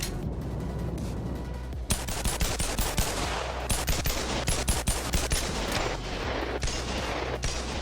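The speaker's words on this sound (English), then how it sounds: "Next up is the Glock Loudener." Rapid Glock pistol shots with a loudener mod fired in the BONELAB video game, a dense string of sharp, loud cracks in quick bursts following a brief hissy lead-in, with no talk.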